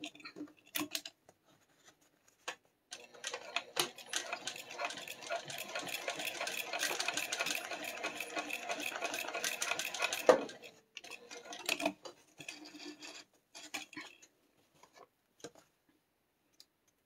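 A sewing machine basting a quilt, its needle chattering in a quick steady run for several seconds at close range, framed by scattered clicks, snips and handling noises, with no one talking.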